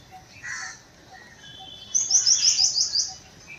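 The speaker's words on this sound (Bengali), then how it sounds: "প্রচুর পাখি আছে, আর এমনি পাখি, ছাড়া পাখিও প্রচুর, চারিদিকে আওয়াজ পাখিদের" Birds chirp in the garden of the Marble Palace in North Kolkata, which holds a mini zoo and many birds. A quick, fairly loud run of high chirps comes near the end, with softer calls earlier over quiet outdoor ambience.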